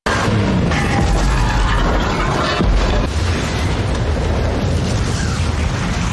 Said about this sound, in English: Then he immediately left the container because soon, the container would explode.